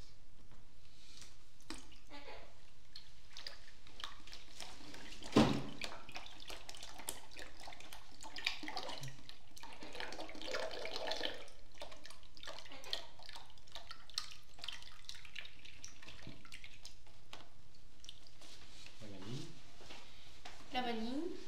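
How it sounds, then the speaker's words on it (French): A second litre of milk pours into a pot for rice pudding, making a soft, steady liquid splashing and gurgling that runs under ongoing talk. "Nous allons mettre le 2e litre de lait."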